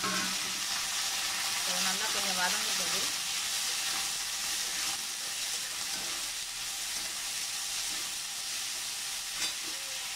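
Onions and green chillies fry in a pan with a steady, soft hiss and sizzle throughout, with a few faint stirring scrapes near the start.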